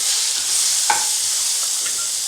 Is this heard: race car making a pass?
no